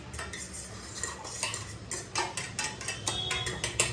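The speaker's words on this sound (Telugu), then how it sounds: "నెక్స్ట్ వచ్చేసి ఇప్పుడు దీన్ని మిక్స్ చేస్తున్నాం" Quick, rhythmic clinks of a utensil stirring a french toast mix of milk, sugar and egg in a bowl, close and fairly quiet, the scrapes and taps coming in uneven bursts with no speech.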